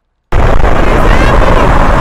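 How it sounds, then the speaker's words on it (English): Dense fireworks and sparkles go off in a Roblox video game, a sudden loud wall of crackling bursts that starts abruptly after a brief silence and keeps roaring without a break. "So he just has a million sparkles and fireworks going off."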